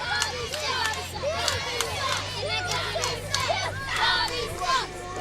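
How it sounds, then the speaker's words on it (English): A live wrestling crowd at a balloon festival show chants and shouts in a loud, steady roar, with repeated rhythmic vocal bursts and children's voices mixed into the dense noise. "Bobby sucks is the chant here from this crowd."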